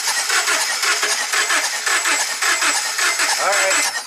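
A 2009 Subaru Forester with a crank no-start fault cranks continuously, a loud, close, rhythmic churning whir with no catch, and a voice cuts in briefly near the end.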